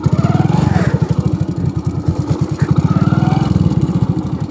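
A motorcycle ridden off-road along a riverside, its engine loud and close with a fast pulsing putter that rises and settles as it moves.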